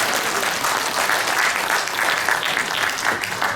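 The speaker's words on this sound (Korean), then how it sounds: "다시 한번 격려의 박수 부탁드리겠습니다." Steady, dense applause from a crowd at a civic rally for a peace and culture memorial hall, clapping in encouragement for a soldier soon to be discharged, loud and continuous throughout without speech.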